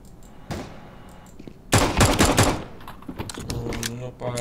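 Gunfire in Counter-Strike: Global Offensive, a faint early shot followed by a loud rapid burst of shots, then more scattered reports with game noise and a player's voice.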